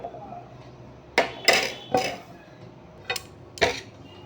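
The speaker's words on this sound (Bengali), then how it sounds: "এখন আমি একটু ক্যাপসিকামটা কেটে নেব।" A knife cuts capsicum on a kitchen board with five sharp, close chopping knocks, spaced irregularly, against a quiet background.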